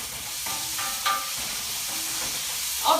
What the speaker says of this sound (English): Then we're going to add those greens. Beautiful, and give it a toss.